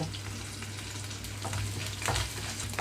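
Peanuts and curry leaves with finely chopped green chillies frying in hot oil for a semiya lemon pulihora tempering: a steady close sizzle with occasional stirring scrapes and pops, no voices.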